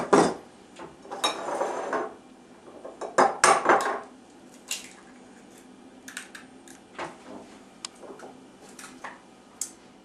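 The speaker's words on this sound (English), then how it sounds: "we have our cream cheese and our egg beat together" Softened Philadelphia cream cheese and an egg being beaten together in a bowl, with clattering utensil scrapes and taps against the dish, louder bursts early on, then lighter intermittent clicks.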